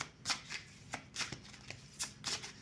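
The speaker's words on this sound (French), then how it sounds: "je vais faire ce petit tirage de cartes" Tarot cards are shuffled by hand for a reading, a series of crisp riffling bursts in an uneven rhythm, close and clear with no talking over them.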